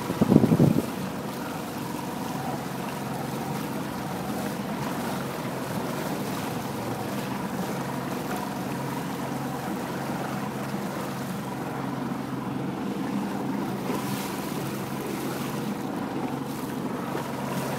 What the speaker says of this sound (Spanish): Se viene una lancha de frente